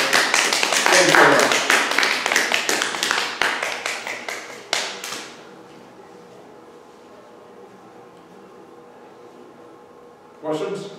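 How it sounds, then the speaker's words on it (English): An audience claps after a history talk on Michigan aviation. The applause is strong at first, then tapers and dies out within a few seconds, leaving a quiet room with a brief sound near the end. "Yeah, I'll take the applause."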